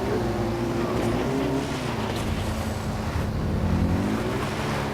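Engine of a vehicle being driven in the Far Cry 4 video game, a steady loud motor drone with shifting pitch that holds throughout without a break.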